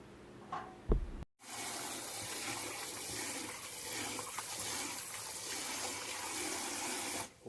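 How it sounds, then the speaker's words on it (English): After a brief clink, water gushes steadily from a tap into a container of rice for rinsing, running continuously at a fairly loud level before cutting off. "And then we give it a really good rinse."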